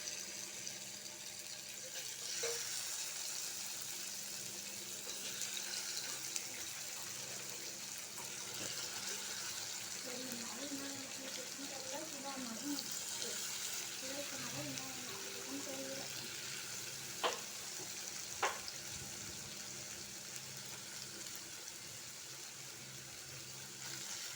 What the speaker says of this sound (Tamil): கொஞ்சமாக எண்ணெய் சேர்த்து ஷாலோ ஃப்ரை தாங்க பண்ணணும்